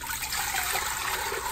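Salt water poured into a cooking pot, a steady, close rushing pour that runs unbroken through the whole moment with no talk over it.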